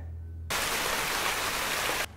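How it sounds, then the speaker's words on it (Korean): Steady, loud rain hiss starts abruptly after a low hum and cuts off sharply near the end, heard close and even throughout, with no voices. "비가 오네."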